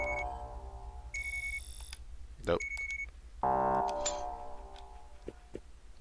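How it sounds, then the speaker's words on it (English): An electronic alarm beeps in an RPG Maker video game, bursts of steady tones repeating over a low background hum while a person talks. "The alarm is very annoying."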